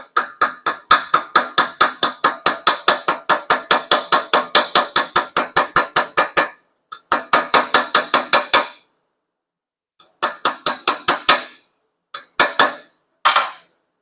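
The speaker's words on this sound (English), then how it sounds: "this is a brass hammer so it won't mar up the surface" Rapid metallic tapping from a small brass hammer on a silverware spiral ring, many quick strikes in steady runs with brief pauses, close and fairly loud, no talking.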